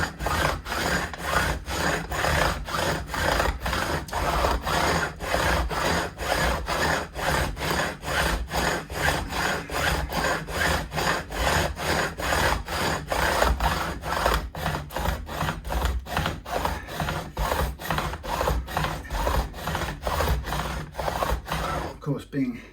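Stainless steel guitar frets are trimmed by hand during a refret on a Tele-style guitar, a repeated rhythmic back-and-forth rasping, close and steady throughout, with scattered talk.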